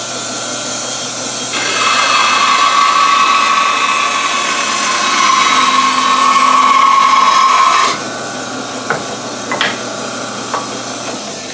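A bandsaw resawing a maple board, a steady whirring hum with a sharper cutting tone that holds for several seconds, then the motor winds down, followed by a few small knocks nearby.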